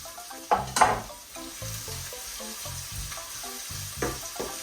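Onions frying in a pan with mustard and fennel seeds for a chickpea curry, a soft sizzle with a few louder crackling bursts near the start and quieter stirring scrapes after, heard close and alone.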